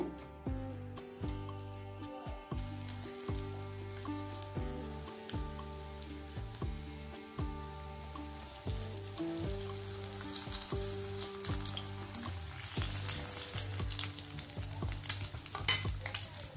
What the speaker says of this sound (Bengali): এবার এই ফুলকপিগুলো দিয়ে দেব তেলের মধ্যে।